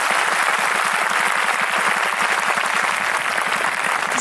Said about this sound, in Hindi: यीशु जी के लिए ताली बजा देंगे।